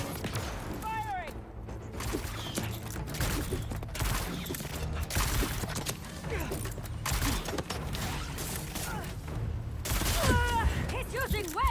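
Dense, continuous gunfire in the Marvel's Spider-Man 2 video game, with rapid volleys and booms mixed with music and voices shouting over the action throughout.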